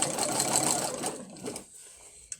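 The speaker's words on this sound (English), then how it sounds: "let me just sew this quickly" Sewing machine fitted with a walking foot stitching quilt binding, a quick close burst of fast mechanical whirring that stops after about a second and a half, followed by a faint click.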